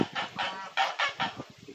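Several loud goose honks in quick succession, harsh and nasal, repeating in an uneven rhythm close by.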